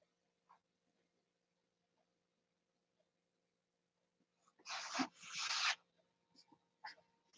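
Hand sanding on a small workpiece makes two short, close scratchy rubbing strokes near the middle, then a few faint scrapes, with quiet pauses between.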